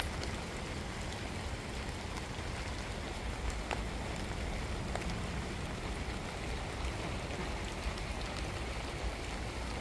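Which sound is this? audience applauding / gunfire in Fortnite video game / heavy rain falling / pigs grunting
heavy rain falling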